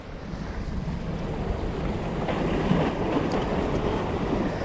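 Rough sea surf washes steadily onto a windy shore during shore jigging, a continuous broad rushing roar that swells slightly without a break.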